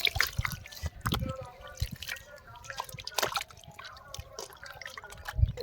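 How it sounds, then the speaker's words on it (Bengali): Maida flour dough being washed by hand in water makes soft splashes, drips and wet squelches in irregular bursts, close and moderately loud. "এখন আমরা জল দিয়ে ময়দাটাকে ভালো করে এইভাবে করে ধুয়ে নেব।"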